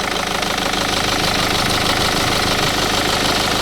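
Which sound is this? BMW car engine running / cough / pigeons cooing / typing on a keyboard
BMW car engine running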